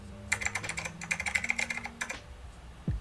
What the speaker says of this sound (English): I just downloaded a typing sound effect from YouTube